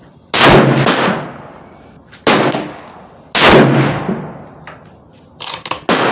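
Three sharp, loud Savage Axis II XP hunting rifle shots at a 50-yard sighting range, spaced about a second or more apart, each cracking hard and ringing out in a decaying echo, followed by a few lighter clicks.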